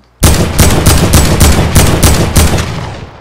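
Rapid gunfire in a video game, about eight loud sharp shots in an even burst that starts suddenly and then trails off, with no voices over it.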